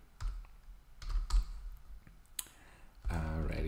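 A computer mouse clicks sharply a few times at irregular intervals in a quiet room, and a brief burst of voice comes in near the end.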